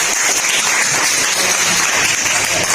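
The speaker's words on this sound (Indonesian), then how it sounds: "Kasih tepuk tangan untuk TP-nya." Loud, dense applause from a crowd fills the whole stretch, steady clapping that cuts off abruptly at the end.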